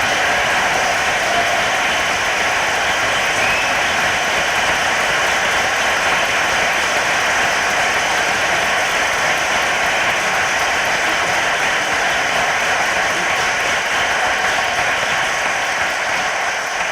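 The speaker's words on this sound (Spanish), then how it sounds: "les damos también un fuerte aplauso a los autores" An audience at a book presentation gives the authors a long, dense round of applause, a continuous wash of many hands clapping at an even loudness with no voices over it.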